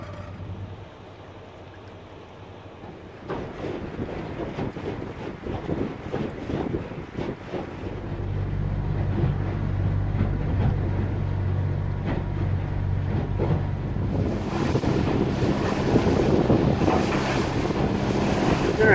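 A small barge-style boat pushed by a carbureted four-stroke outboard running wide open at roughly 9 to 10 mph, a steady low drone with rushing water and heavy wind buffeting the microphone, growing louder as the throttle comes up.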